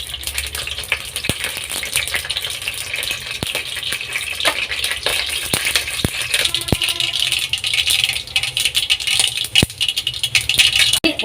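Mustard seeds crackle and pop steadily in hot oil in a pan, a dense close sizzle with sharp individual pops scattered throughout, no talk.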